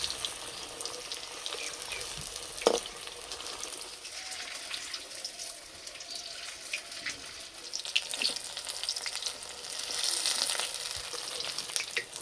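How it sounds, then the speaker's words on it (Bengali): Cabbage leaf rolls, a crispy pakora-style snack, fry slowly in oil over low heat, giving a soft, steady sizzle and gentle bubbling hiss throughout, fairly faint, with no one talking. "আস্তে আস্তে জাল দেবো আর ভেজে নেব, তাহলে ভিতর পর্যন্ত খুব সুন্দর ভাজা হবে।"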